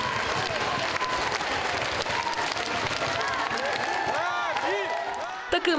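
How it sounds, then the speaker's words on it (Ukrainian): Concert audience applauding a band at a sold-out charity tour show, a dense wash of clapping with a crowd murmur, fairly distant and steady, with tonal sounds rising near the end. "У залі аншлаг емоцій і оплесків фанати гурту не шкодують."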